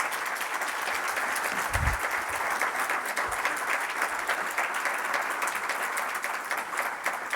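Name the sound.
audience applause at a congress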